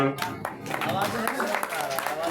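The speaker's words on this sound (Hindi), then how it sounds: "एक बार ताली बजा करके दोहरा।" An audience at a Bhagwat devotional gathering claps along during a chant, a fairly steady patter of many hands at moderate loudness, mixed with voices and sound from the gathering.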